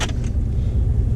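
Ram 1500 pickup truck engine drone while cruising, a steady low rumble close and constant with faint road noise, no talking.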